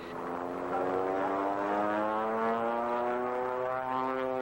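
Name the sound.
aerobatic propeller airplane climbing vertically doing snap rolls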